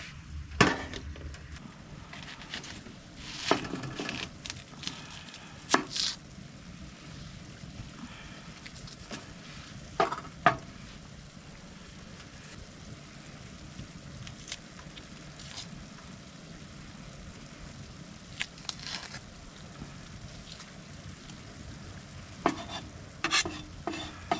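Food browns in a pan on a stove inside a hot tent at a cold-night camp, giving a faint, steady sizzle with scattered clinks and scrapes of stirring, and no talk.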